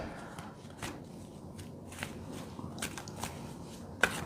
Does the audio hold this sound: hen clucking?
no